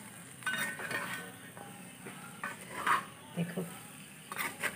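Chicken pieces and masala frying in oil for polao, with clinks and scraping of a utensil stirring the pan in short bursts, a soft sizzle underneath and a brief voice speaking.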